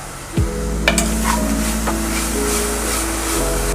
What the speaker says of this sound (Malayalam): ഓയിൽ ചൂടായി, അതിനകത്തോട്ട് നമുക്ക് ഉള്ളി കട്ട് ചെയ്തിട്ട് കൊടുക്കാം